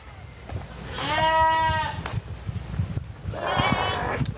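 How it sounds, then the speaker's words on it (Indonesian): A goat bleats twice outdoors in the countryside while people gather bamboo: one long, wavering bleat, a pause filled with low rustling, then a second, shorter bleat, both fairly close and clear. "Suara kambing itu teman-teman"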